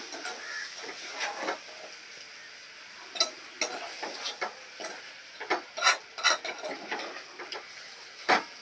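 Mutton gongura curry with masala, chili and salt being stirred in a pot, heard as a run of soft scraping and clacking spoon strokes with light sizzle, moderately close, the strokes irregular and coming in clusters.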